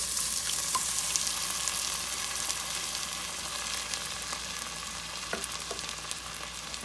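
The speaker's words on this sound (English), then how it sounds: "just about a tablespoon of oil, and then I'm going to add my onion. And I have this on like a low heat." Onion frying in oil on low heat, a steady close hiss and crackle of sizzling that runs throughout with small pops scattered through it and no talk.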